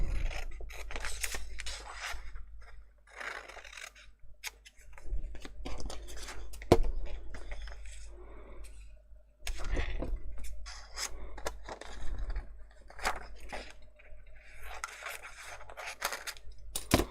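Scissors cut out a distressed paper picture for an Alice in Wonderland mini album, making soft, intermittent snips and rustles that come in irregular bursts, close by with quiet gaps between cuts.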